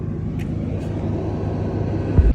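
Steady low rumble of vehicles streaming past on a freeway shoulder beside a Power Wagon with a blown front left tire, continuous and fairly close, with one louder thump near the end.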